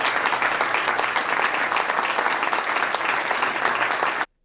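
Loud, continuous audience applause, dense and even from start to finish before cutting off abruptly.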